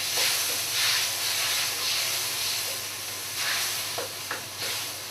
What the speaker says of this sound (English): we give this a good old stir up.